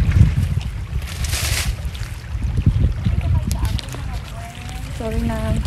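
Strong beach wind buffets the microphone with a loud, low rumble, while voices talk faintly underneath.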